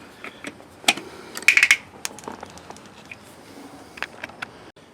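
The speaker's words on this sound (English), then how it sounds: "take a large flat blade, we'll unscrew this" A Harley-Davidson Softail seat screw is loosened with a large flat-blade screwdriver: faint scattered metallic clicks and scrapes, with a brief denser burst of ticking near the middle, close by in a quiet room.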